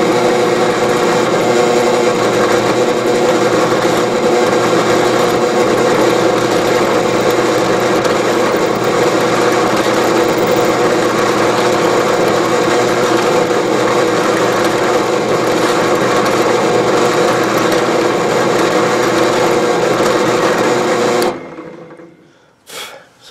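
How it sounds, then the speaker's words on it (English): A power drill whines continuously at a steady high pitch for a long stretch while drilling a custom knife handle, then winds down and stops abruptly. "And so we're going to start drilling."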